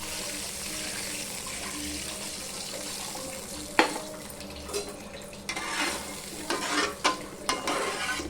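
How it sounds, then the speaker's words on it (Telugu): Water is poured into a pan of hot ghee in a home kitchen, a soft steady hiss and sizzle at first, then sharper splashing and bubbling bursts toward the end, close and fairly quiet. "గీ ఉంది, ఒక వాటర్ పోసుకుందాం."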